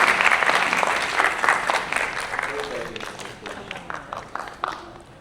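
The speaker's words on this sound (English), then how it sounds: "Give her a round of applause." Audience applause at a keynote talk on anxiety in Taiwan: dense, steady clapping from a large crowd, loud at first and gradually thinning and fading over about five seconds.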